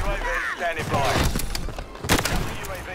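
Kar98k rifle shots in a video game, a few sharp cracks and thumps, the loudest near the end, heard under and between excited talking.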